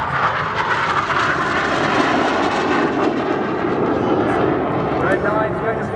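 Red Arrows display jet roars overhead at the Southport Airshow 2015, a loud, steady broadband engine rush filling the whole stretch while a commentator talks over it.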